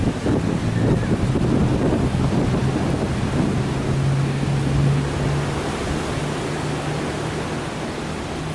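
Stormy seaside weather at Boulogne-sur-Mer: loud, constant wind buffets the microphone with a roaring rumble while rain and surf hiss underneath, steady and unbroken throughout.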